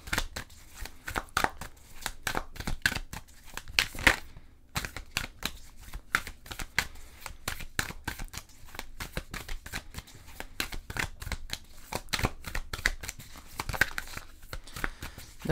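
Tarot cards shuffled and drawn in a steady run of rapid, close riffling and slapping card noises, with one brief pause, dry and fairly quiet, with no one speaking.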